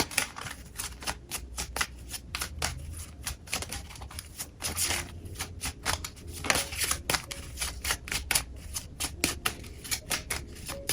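Tarot cards being shuffled by hand in a steady stream of quick riffling flicks and soft slaps, close and fairly quiet, with no talking.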